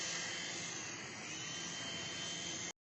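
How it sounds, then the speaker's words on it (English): A toy helicopter in flight makes a steady, close, high-pitched whirring buzz that holds at an even level for nearly three seconds and then cuts off abruptly. "The helicopter takes some time to fly, and the helicopter's flying."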